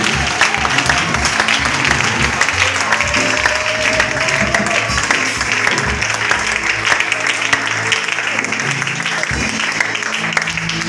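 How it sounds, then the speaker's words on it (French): A church congregation applauds and cheers for Jesus, with steady, loud clapping and crowd noise filling the room throughout. "Est-ce que tu peux acclamer pour Jésus?"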